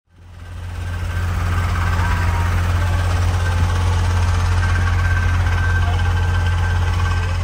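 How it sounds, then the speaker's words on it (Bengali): A boat engine drones steadily and loudly on a river trip toward Sunamganj, a constant deep rumble with vibration that swells up at the start and then holds unchanged with no pauses. "আমাদের বোটটা ছেড়ে দিয়েছে এখন সুনামগঞ্জের উদ্দেশ্যে"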